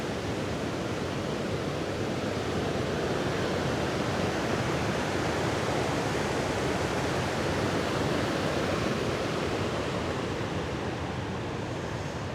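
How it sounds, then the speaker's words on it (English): Steady, dense rush of falling water, close and loud, unbroken from start to finish with no voices. "A bit of a waterfall here."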